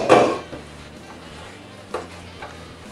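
A spoon or spatula stirs balsamic vinaigrette in a pan, with a clattering scrape at the start, then a few lighter knocks against the metal over a faint low kitchen hum.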